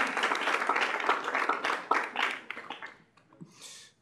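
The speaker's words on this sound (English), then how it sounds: "If we could give him a round of applause." A student government meeting audience gives a brief round of applause for its Member of the Week, a dense burst of clapping that thins out and fades within a few seconds.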